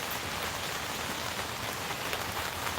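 Steady heavy rainfall with wind kicking up, a thick, unbroken hiss of drops hitting surfaces nearby, loud and continuous with nothing else over it.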